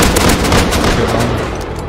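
Rapid gunfire in the survival video game Rust during a large raid battle, loud dense bursts of shots crackling continuously and close.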